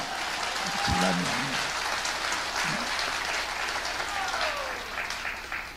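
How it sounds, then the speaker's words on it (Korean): Applause from an outdoor rally crowd in Ulsan fills the whole stretch as a steady, dense wash, with brief voices and a short tone cutting through near the start. "박수 치려면 세게 쳐봐"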